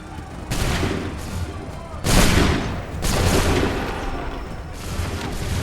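Musket volley fire in the Battle of Bunker Hill in Assassin's Creed 3, with loud, rolling bursts of massed gunfire around 0.5, 2.1 and 3 seconds and a steady din of battle between them.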